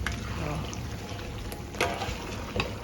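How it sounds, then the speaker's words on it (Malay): Sambal tumis frying in a pan, a steady crackling sizzle broken by sharp spitting pops, close and fairly quiet. "Kalau ni bikin sambal tumis ni, metik-metiknya itu yang tak boleh tahan"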